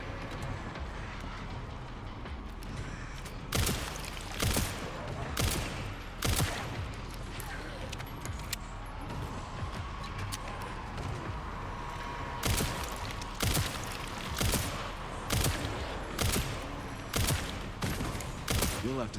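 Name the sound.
handgun firing in Resident Evil Requiem video game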